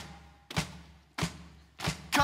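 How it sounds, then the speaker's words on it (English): A crowd stomps their feet loudly in unison, three heavy booming thuds spaced evenly about two-thirds of a second apart, each ringing briefly before the next. "Come on, everybody, and stomp your feet real loud."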